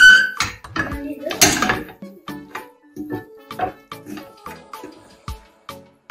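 Spaghetti being mixed into sauce in a cooking pot, with repeated clinks and scrapes of a utensil against the pot and soft wet stirring in an irregular rhythm, close by.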